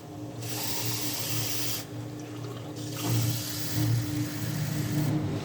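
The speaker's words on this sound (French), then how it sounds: "on prend un verre gradueur, on remplit d'eau" Tap water pours steadily into a measuring jug in a home kitchen during cooking, a loud continuous rushing with short pauses and shifting pitch as the jug fills.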